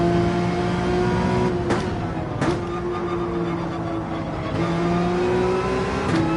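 A race car engine accelerates in Gran Turismo 7, loud and sustained, its pitch rising and dropping through several gear shifts with brief gaps between pulls.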